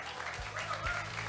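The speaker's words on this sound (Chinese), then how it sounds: "拍手" A crowd applauds to welcome high school students onto the stage at a fan screening event. The clapping is steady and moderately loud, with voices mixed in.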